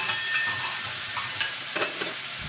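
Beef browning in a pan for sukiyaki gives a continuous, moderate hiss and crackle, with light, irregular stirring taps and scrapes scattered across the sizzle.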